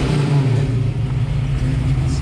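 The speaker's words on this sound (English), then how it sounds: "See some of that throttle response." A 1967 Ford Mustang engine, still cold, revs with a steady low, throaty rumble at close range, the throttle blipped in short pulses with no one talking over it.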